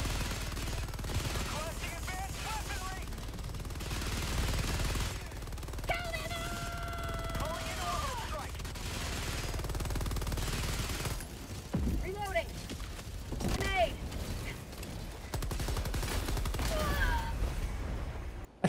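Bursts of Stalwart machine-gun fire in the video game Helldivers 2, with sustained rattling volleys and short pauses, alongside occasional harmonic game effects throughout.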